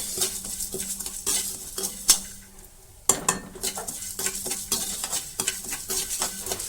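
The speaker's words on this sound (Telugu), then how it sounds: "నేను ఇందులోనే కొన్ని ధనియాలు కూడా వేసుకుని వేయించుకుంటున్నా" Coriander seeds dry-roasting in a pan for chicken dum biryani masala, with repeated scraping and stirring clinks of a spoon against the metal pan and a faint sizzle, nearby and with no talking.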